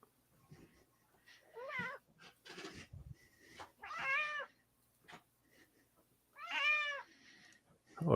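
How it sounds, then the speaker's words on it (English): A cat meows several times, drawn-out and wavering calls spaced a few seconds apart, close and fairly loud, with a few soft rustles and thumps in between. "hello, cat."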